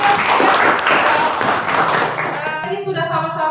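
A classroom of students clapping together for a lesson on financial statements, loud dense applause for about two and a half seconds that stops abruptly, followed by a teacher speaking.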